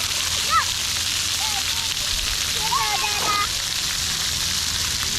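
Kids playing in the water at a water park: continuous splashing and sloshing water, with scattered high-pitched children's shouts and chatter rising over the spray.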